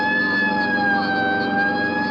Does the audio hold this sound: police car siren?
yes